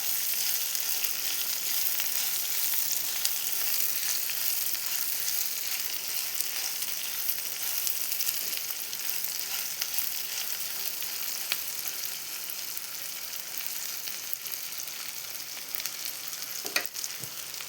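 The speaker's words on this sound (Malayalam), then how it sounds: "ഇത് നല്ലോണം വഴന്ന് വരട്ടെ." Chutney ingredients sauté in a pan, giving a steady, close sizzle and crackle of frying that runs unbroken throughout with no talking.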